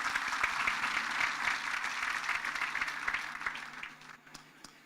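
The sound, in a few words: audience hand clapping at celebration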